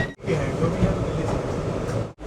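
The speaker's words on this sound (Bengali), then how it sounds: "ফারাক্কা ব্যারেজের উপর দিয়ে আমাদের ট্রেন যাচ্ছে এখন" Vande Bharat sleeper train crossing the Farakka Barrage, a steady loud onboard rumble of wheels and carriage noise filling the whole span, with brief dips at start and end.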